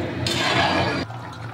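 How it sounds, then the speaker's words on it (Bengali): Water poured into a pot of radish curry after the spices are fried, a short loud rushing splash lasting about a second before it cuts off, with no talking. "এবার আমি এটা জল ঢেলে দেবো এর মধ্যে, দিয়ে একটু ফুটিয়ে নেব।"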